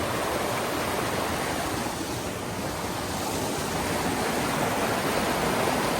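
Raging creek water rushing around a big boulder in mid-stream, heard as a dense, loud, unbroken roar with no voices.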